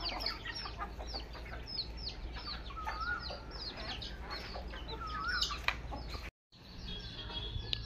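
Chickens on a small local poultry farm cluck and call repeatedly, with scattered bird chirps over a steady low background hum, moderately near and continuous, briefly cutting out near the end.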